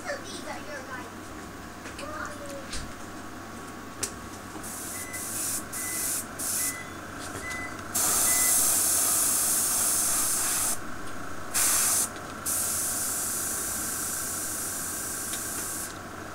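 Airbrush spraying Model Flex paint straight from the jar onto a practice card for model weathering, a steady hiss with several louder bursts as the trigger is pressed and released, under a continuous low hum.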